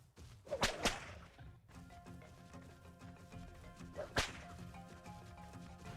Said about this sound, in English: That's the whip stun.